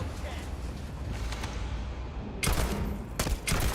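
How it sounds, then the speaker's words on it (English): A slow-firing gun in Starfield sounds in a few separate heavy shots spaced out near the end, loud against a continuous game background with some talk. "Oh, it's a slow shooting gun"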